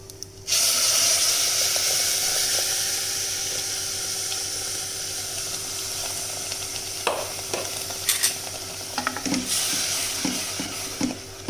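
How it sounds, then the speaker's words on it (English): Tomato paste frying with roasted masalas for a Sindhi potato tomato curry, an even close sizzle throughout, with stirring and a few light clinks and scrapes toward the end, no voices. "just roasting it very slightly, the masalas. I will now add the tomato paste."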